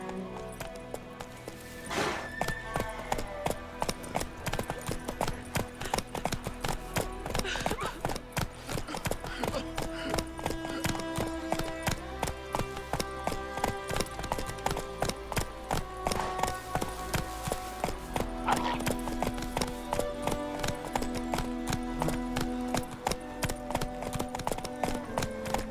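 Hooves of Geralt's horse Roach trotting in The Witcher 3: Wild Hunt, a steady rhythmic clip-clop that continues throughout with faint background music and occasional distant voices.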